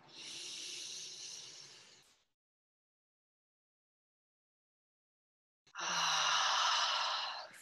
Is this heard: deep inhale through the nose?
yes